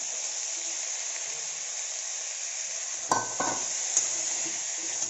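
Sprouted moth beans, potatoes and peas being stirred together in a pan: a steady hiss of cooking with a sharp utensil scrape and clatter midway, followed by a few lighter knocks.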